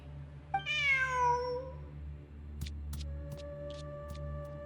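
A single drawn-out cat meow in the video game Genshin Impact rises and trails off, followed by soft clicks and a steady electronic hum.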